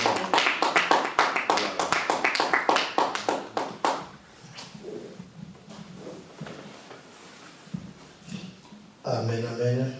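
Church congregation clapping hard and fast in rhythm for the first few seconds, then a speaker addresses them over quieter ambience, with louder voices returning at the end.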